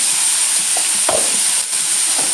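Ingredients sautéing with salt in a pan for egg kappa, a loud even hiss of frying with a few soft stirring knocks and no voices.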